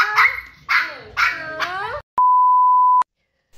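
A small dog gives a few high, whiny yelps and whimpers, followed by a steady electronic beep that cuts in about a second.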